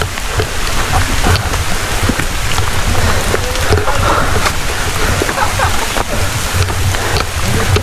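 Steady rain falls across a rocky mountain hiking trail on Mount Tampomas via the Cibeureum route, a dense continuous hiss of drops pattering on stone and foliage, close and loud throughout with no clear voices.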